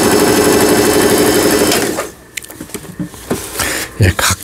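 A Brother home sewing machine stitches in a fast, steady mechanical run for about two seconds, then stops, leaving scattered clicks and handling knocks close by.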